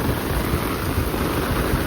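Heavy rain pours steadily during a storm in Fukuoka, a dense, close, unbroken wash of sound with a low rumble of thunder or wind underneath.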